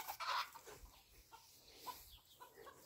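Chickens on a farm cluck and murmur in short scattered calls, fairly faint, with a louder burst of sound near the start and quiet background noise throughout.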